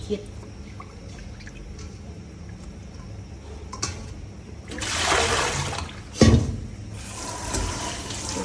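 Beef being washed by hand in water, with sloshing and splashing that builds midway and peaks in a brief louder splash, over a steady low background.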